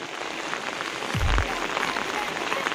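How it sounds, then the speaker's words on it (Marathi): Heavy monsoon rain pours steadily over a flooded rice paddy during transplanting in Konkan, a dense, even hiss throughout with a brief low thump near the middle. "हे बघा जोरात पाऊस आला एकदम."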